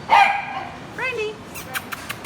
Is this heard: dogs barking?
yes